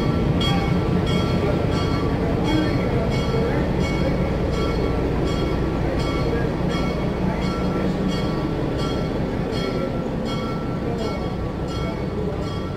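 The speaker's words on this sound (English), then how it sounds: "And this train just brought a load of people" An excursion train pulls out at the Canal Days festival in Metamora, Indiana, running beside the canal: a steady, loud rumble of railcars with rhythmic wheel clatter throughout, and some crowd voices mixed in.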